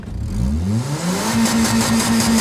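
A Mazda 3 engine revs to warm up ahead of a burnout, rising in pitch as it climbs and then holding a steady high drone, loud and close with no talk over it.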